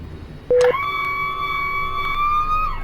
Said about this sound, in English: looks like we have a good start on the left engine as well